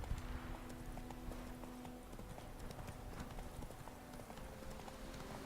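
Horse hooves clip-clop in a video game, a steady run of crisp hollow knocks at a walking pace, fairly near, over a low game background with faint tonal hums.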